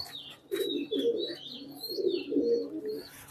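A silver male pigeon in a loft coos in close, repeated throaty bursts, three or four rolling phrases with faint chirps from other birds behind.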